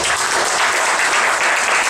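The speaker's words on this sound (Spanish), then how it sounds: "un caluroso aplauso pido para nuestro querido alcalde por ese apoyo a las artes" An audience at an art exhibition opening applauds the mayor, a loud, dense wash of clapping that runs steadily throughout and cuts off sharply at the end.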